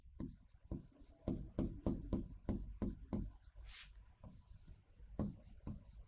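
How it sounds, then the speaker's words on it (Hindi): Writing on a board in a history lecture, repeated scratching strokes in uneven bursts with faint rubbing between them, fairly quiet and close, with low speech mixed in. "तो हम पहले ये लिखेंगे"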